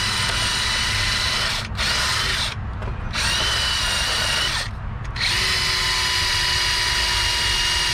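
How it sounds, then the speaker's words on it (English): A power drill whirs continuously up close, briefly easing off twice before spinning up again, with no speech. "I can control my drill."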